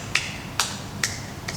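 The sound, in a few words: slow clapping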